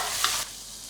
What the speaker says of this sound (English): So this time I will stir fry all the vegetables.